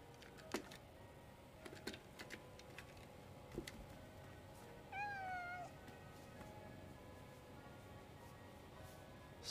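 A cat in the video game Stray lets out a single clear, drawn-out meow in the middle, standing out over a quiet bed of game ambience and faint clicks.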